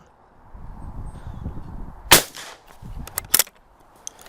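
Air rifle fired outdoors, a sharp loud crack followed by a second quick report and mechanical clicks, with quieter rustling and handling noise before the shots.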